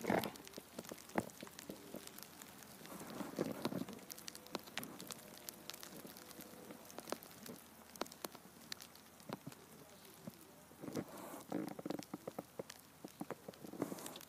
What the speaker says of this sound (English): It's sleet. It's sleet. No, look. It's sleet.